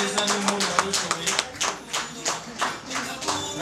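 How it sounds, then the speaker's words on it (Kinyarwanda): Guests at a wedding break into steady applause for the children, a dense ongoing patter of many hands clapping close by, rising and falling in rhythmic waves. "tugashimira aba bana amashyi rwose meza"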